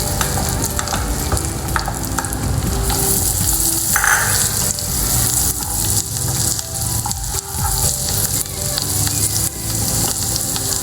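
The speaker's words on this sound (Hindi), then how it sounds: "अब मैं पैन में डालूंगी 1 टेबलस्पून ऑलिव ऑयल, थोड़ा सा बटर। अब इसमें मैं डालूंगी गार्लिक," Garlic fries in a pan of olive oil and butter with a loud, continuous sizzle. Stirring scrapes and spattering pops run through the close hiss, and no one speaks.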